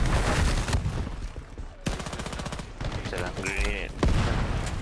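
In a first-person shooter match, a grenade bursts amid dense gunfire under constant game noise. Players talk over the racket throughout.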